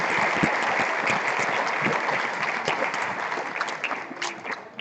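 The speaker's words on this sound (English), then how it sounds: "one more round of applause for all Samueli scholarship recipients" An audience at a Samueli Academy senior awards evening gives a dense, sustained round of applause for scholarship recipients. The clapping fills the room and tapers slightly at the end.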